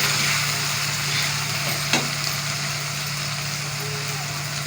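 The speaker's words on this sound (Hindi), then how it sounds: "अब हम इसके अंदर अदरक लहसुन डालेंगे। मिक्स करेंगे इनको।" Ginger and garlic being stirred into frying meat for a gosht curry, giving a steady moderate sizzle and frying hiss with a faint clink of a utensil partway through.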